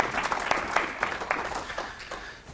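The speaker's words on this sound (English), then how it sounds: "Let's give him a round of applause." Brief round of applause from an audience at an aerial applicators safety meeting, a dense patter of clapping that holds steady and then tapers off.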